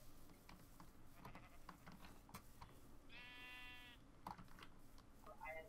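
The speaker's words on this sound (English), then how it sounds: "That's a gray sheep." A sheep in the video game Minecraft gives a short bleat partway through, a brief wavering cry heard over clicking keyboard keys and quiet background game sounds.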